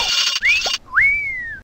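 Bright rising-then-gliding whistle tones from collecting money-sign icons in the video game Noop's Odyssey, two distinct chimes in quick succession over a faint electronic game soundtrack.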